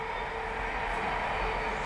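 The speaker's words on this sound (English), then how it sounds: "Apologies for the really loud train" A loud train passes close by outdoors, a steady broad rumbling roar with a rail hum that stays continuous from start to finish.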